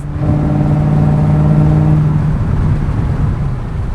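A 1993 Ford Cobra's engine revs up steadily with a rising whine during a downshift, then drops off as the gear changes, leaving a lower rumble running underneath.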